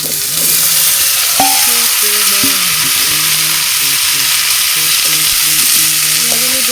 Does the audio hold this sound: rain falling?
no